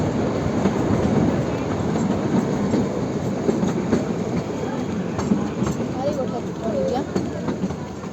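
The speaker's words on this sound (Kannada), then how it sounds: "ನೋಡಿ ಶಿಮ್ಲಾ ರೈಲ್ವೆ ಸ್ಟೇಷನ್ಗೆ ಎಂಟ್ರಿ." The Kalka-Shimla toy train rolls into Shimla railway station with a continuous loud rumble and clickety-clack of wheels, with faint squeals near the end and voices in the background.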